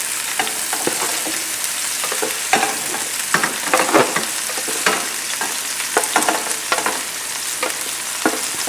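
Pork with fresh garlic and ginger sizzles loudly in a smoking-hot pan, and a utensil scrapes and stirs it in irregular bursts over a constant frying hiss.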